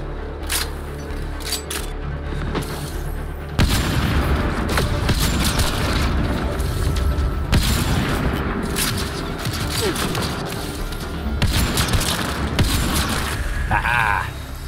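Combat in Mass Effect Andromeda: a dense, continuous barrage of booming explosions and rapid gunfire with rumbling low blasts, heavy and sustained throughout, with a voice speaking over the fighting.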